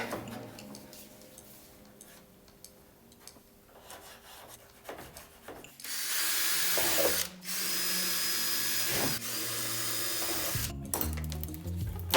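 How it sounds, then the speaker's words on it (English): A power drill starts up and runs steadily with a loud, sustained whine, briefly cutting out once, after quieter rubbing and handling noises, drilling holes in a new bumper on a Toyota Chaser JZX100. "The fastener should just fit if I simply drill holes on the new bumper."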